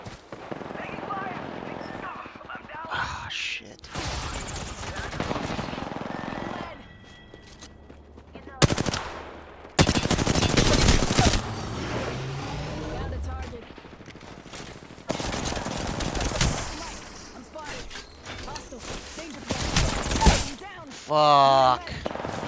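Apex Legends combat with Bangalore, bursts of machine-gun and rifle fire in several loud stretches separated by quieter gaps, mixed with other game effects and occasional voices.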